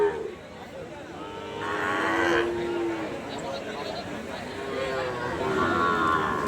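Young red Sahiwal-Gir calves around seven to eight months old low and moo at a busy cattle market, several drawn-out calls rising over a steady crowd murmur with people talking nearby.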